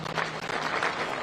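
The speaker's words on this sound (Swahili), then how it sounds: "Tuwapigie makofi hawa wadosi." An audience at a Labour Day celebration gives labour leaders a round of steady, dense applause, heard at a moderate distance.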